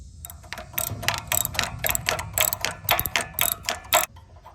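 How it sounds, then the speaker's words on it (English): A spark plug wrench works loose the spark plug of a generator being readied for storage, giving a rapid series of close ratcheting clicks in uneven bursts that stop near the end, with no speech. "We're going to get us a spark plug wrench and take it out."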